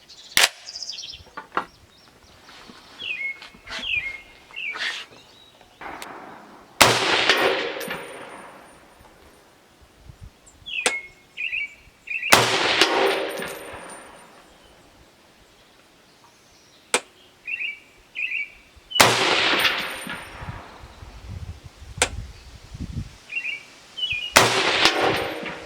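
Tavor or SCAR 17 rifle rounds fired downrange at a shooting range: a few loud, sharp shots spaced several seconds apart, each with a ringing tail, plus smaller clinks and metallic taps between them.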